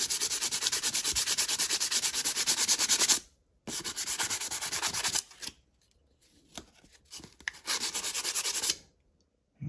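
A metal shaft from a Thumler's Tumbler A-R1 has rust sanded off with 150 grit sandpaper: loud, close, raspy rubbing in long bursts, separated by brief pauses and quieter scraping.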